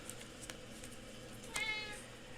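A kitten meows once, a short, clear cry standing out near the end over quiet background hiss, preceded by a few faint soft knocks.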